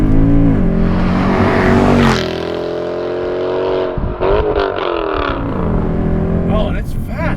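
A 2009 Mercedes C63 P30 pulls hard from inside the cabin, its loud engine roar climbing, dipping at a gear change, then climbing again. It is heard close with no talk.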